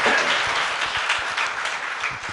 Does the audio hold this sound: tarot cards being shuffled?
no